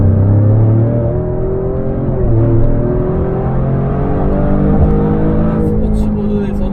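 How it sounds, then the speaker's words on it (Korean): Loud, close engine hum of a Maserati Grecale Trofeo sports SUV in sport mode, pitch rising and shifting as revs climb quickly, steady and throaty throughout. "스포츠 모드에서는 한층 사운드가 더 강렬해지고요. 엔진의 회전도 좀 더 빠릿빠릿하게 올라갑니다."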